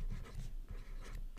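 Pen or marker writing on a board during a finance lecture, with steady scratchy strokes and brief pauses running throughout, close and fairly clear, with no talk.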